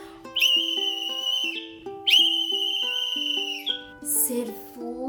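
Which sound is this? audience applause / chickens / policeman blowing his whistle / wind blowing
policeman blowing his whistle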